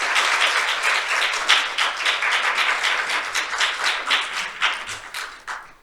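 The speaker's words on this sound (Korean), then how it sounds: "여러분 큰 박수로 청해 주시면 감사하겠습니다" Audience applause at a Korean accounting forum, a steady wash of many hands clapping for several seconds, moderately loud and even, with no talking over it.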